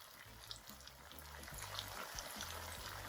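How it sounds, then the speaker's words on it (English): Small green plantains frying in hot oil give a steady, close, continuous sizzle with a faint bubbling crackle running through it. "So I'm gonna fry my green plantains."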